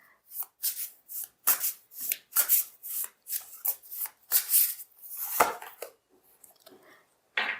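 Astrological tarot cards are shuffled by hand in a series of crisp riffles and soft slaps, about a dozen close bursts in quick rhythm with short gaps between.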